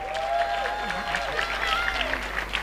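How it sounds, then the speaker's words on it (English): A crowd of participants at the R.E.A.P. Entrepreneurship Conference 2023 applauds, the clapping fairly faint and steady behind a tonal musical line and some voices. "can we give a big round of applause for all our reapers?"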